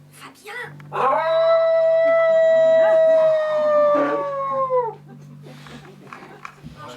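A performer in improv theatre voices a dog, one long sustained wavering howl that slides down into whining, loud and close, with faint chatter before and after; a human voice imitates the dog.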